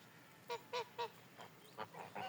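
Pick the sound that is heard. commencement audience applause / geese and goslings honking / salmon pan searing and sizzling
geese and goslings honking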